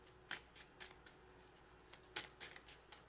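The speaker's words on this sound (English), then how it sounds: "I already have 3 cards, but I'm still shuffling, so one more needs to come out." A deck of tarot cards being shuffled, soft riffling bursts coming in a loose, irregular rhythm, close and quiet with no talking.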